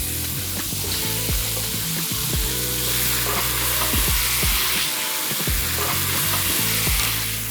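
Pork belly fries with chili in hot oil in a wok, making a loud, continuous sizzle with frequent crackles and the scrape and clatter of stirring throughout.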